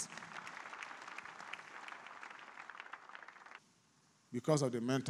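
A church congregation claps steadily at a healing service, the applause fading out before a voice begins speaking near the end.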